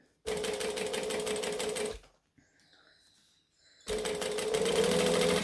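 Sewing machine top stitching a seam, running in two steady, close bursts of rapid stitching separated by a short quiet pause with faint handling noises.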